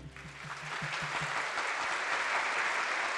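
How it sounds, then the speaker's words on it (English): Audience applause for distinguished guests at the 2018 Tang Prize Masters' Forum on sustainable development, a dense steady wash of clapping from a sizeable crowd that builds quickly and holds at full strength throughout. "Let us give us a round of applause to all the distinguished guests for joining us today."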